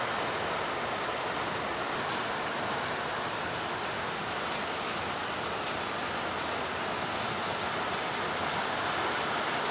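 Heavy rain pours down on a rooftop in Chennai, a dense, steady roar of falling water that stays loud and unbroken throughout, with no voices.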